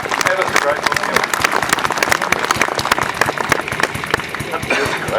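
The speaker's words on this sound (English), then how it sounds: "Can I have a round of applause for George and the wonderful Norton." A lively crowd claps and cheers for a Norton Model 9 TT motorcycle and its rider, dense close applause over five seconds with voices mixed in.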